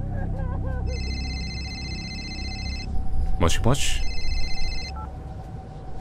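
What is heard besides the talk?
telephone ringing in video game ROT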